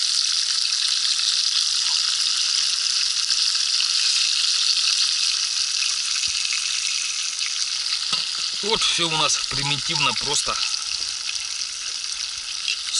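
Fish fries in a pan over a campfire-style outdoor stove, a loud, steady hiss of sizzling oil running throughout, while someone talks briefly near the end.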